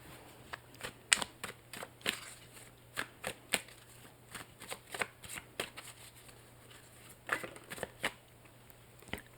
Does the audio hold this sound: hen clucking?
no